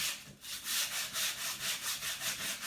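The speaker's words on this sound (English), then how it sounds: "so I'm really giving it a good sanding." Sandpaper rubs back and forth over a painted wooden sign in a steady rhythm of about eight strokes, close and raspy with no talking.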